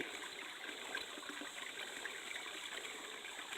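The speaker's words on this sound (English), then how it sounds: "Nothing but spring water here, flowing out of the rocks." Spring water pours steadily out of rocks, a soft continuous rushing and trickling with no breaks, faint and even, heard alone without voices.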